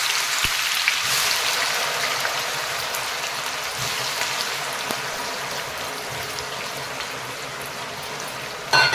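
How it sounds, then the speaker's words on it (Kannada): Grated raw banana for chips frying in hot oil, a steady dense sizzle and bubbling hiss that holds evenly throughout with one brief clack near the end. "ಈಗ ಸ್ವಲ್ಪ ಎಣ್ಣೆಯಲ್ಲಿ ಫ್ರೈ ಆಗಲಿ."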